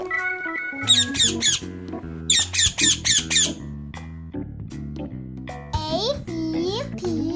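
A cartoon bird squawks in a garden: bursts of shrill, fast chirping squawks in two clusters, then a few more, loud and close. They play over bouncy children's music with a child-like voice speaking.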